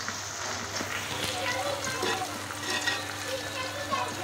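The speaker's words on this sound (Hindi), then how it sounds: "तो गाइस मैंने हल्का मीडियम तेल गरम किया है और इसमें मैं अपने ड्राई फ्रूट्स भून रही हूँ" Dry fruits frying in medium-hot refined oil give a soft, continuous sizzle and light bubbling, with occasional faint stirring, steady and close.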